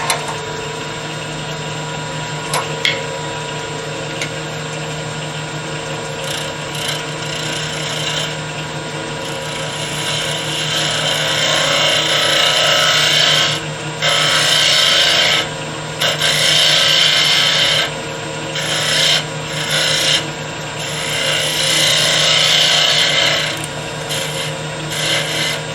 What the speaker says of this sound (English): I'm going to clean that surface up just a little bit, and I want it rounded. So I'll take my gouge.